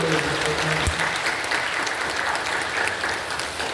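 A church congregation applauds during a Sunday Advent worship service, a dense, sustained clapping from many hands filling the room at an even level from start to finish.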